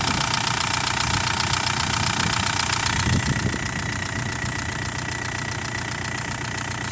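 A Volkswagen TDI donor car's diesel engine idling without its serpentine belt, a steady close clattering knock with a constant rhythm and a brief heavier thump midway, no voices.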